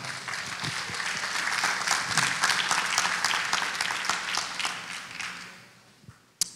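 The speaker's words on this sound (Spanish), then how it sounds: "Usted le regala palmas al Señor" A church congregation claps together in praise, a dense, steady patter of many hands filling the room before thinning out and fading near the end, with a final sharp tap.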